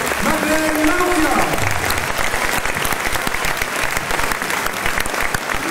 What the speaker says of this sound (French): applaudissements pour la championne du monde, Madeleine Lalonde